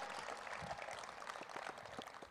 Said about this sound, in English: Come on, keep clapping for them.